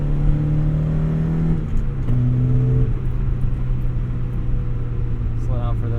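A 1991 Mazda Miata accelerating hard, with a loud engine drone that climbs in pitch, drops at a gear change and climbs again, heard from inside the car. There is no speech.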